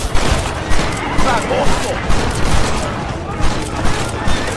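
A Red Dead Redemption ambush erupts in heavy, continuous gunfire, overlapping rifle and pistol shots crackling loudly throughout while someone shouts in Spanish over the battle.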